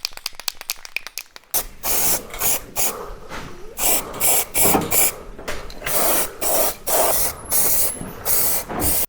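Weld-through primer sprayed from an aerosol can onto bare steel of a Mk2 Ford Fiesta under restoration: after a few rattling shakes of the can, a loud, close hiss comes in repeated bursts of about a second each, separated by short pauses.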